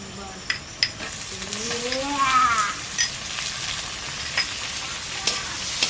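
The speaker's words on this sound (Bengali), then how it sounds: "আলু আর পেঁয়াজটা ভালো করে ভেজে নিয়েছি এখন টমেটো দিয়ে দেবো" Potatoes, onions and tomatoes fry in a pan over a village evening fire with a continuous close sizzle, broken by spatula scrapes and light metallic clinks of stirring.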